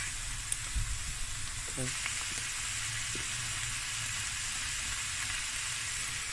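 Sausage and onion frying in a pot for a Cape Malay sausage bredie, with a constant close sizzle and occasional stirring knocks, and a brief spoken word near the start.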